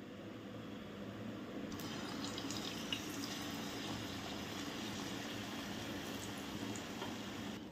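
A potato vada for fasting sits in hot oil and fries with a soft, even, continuous sizzle that stays faint and steady throughout, with no voices.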